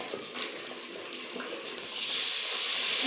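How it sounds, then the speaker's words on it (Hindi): Water poured into a cooking dish while preparing a spiced dish, a soft continuous splashing hiss that grows brighter and louder toward the end, heard close by. "तो अब इसमें थोड़ा सा पानी डालती हूँ।"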